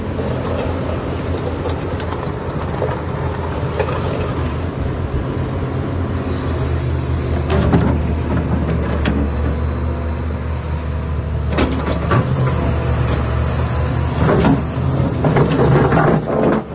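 A Hitachi EX 355 excavator swings, its engine droning steadily and loudly throughout with hydraulic whine and occasional clanks and rattles rising over the continuous rumble.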